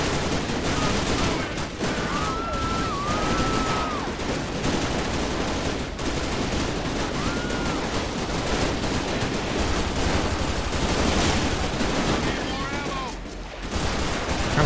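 Heavy, continuous gunfire rattles throughout a GTA 5 LSPDFR police standoff against a shooter, a dense barrage of overlapping shots with sirens wailing briefly over it.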